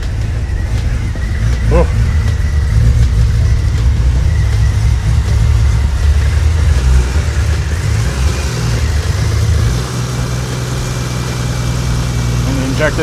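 A car engine turns over and settles into a loud, close, slightly uneven idle after fuel injector rewiring, a heavy low rumble throughout with a brief exclamation from a man.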